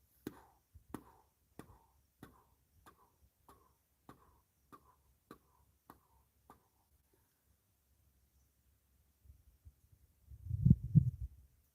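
A steady heartbeat of about a dozen soft, evenly spaced thumps grows fainter, followed by silence and then a brief low rumble near the end.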